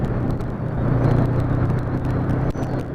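A 2020 Honda CB500F being ridden, with a continuous engine drone and wind rush that stays steady and close, holding level for the whole stretch with a brief dip near the end.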